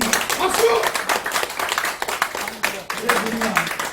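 An audience at a Korean lecture breaks into clapping, with dense rapid claps filling the room under a speaker's continuing voice.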